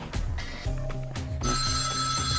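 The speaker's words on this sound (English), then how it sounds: "Oh, I've just got a phone call." A telephone rings loudly and steadily for an incoming call, with repeated bell-like tones close to the listener during a setup of a Nokia Lumia 520.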